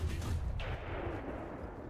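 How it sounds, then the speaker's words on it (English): A tank cannon fires in the War Thunder video game: one loud, heavy boom at the start, with a broad blast and a rumbling decay trailing off over about two seconds. "That's a cannon."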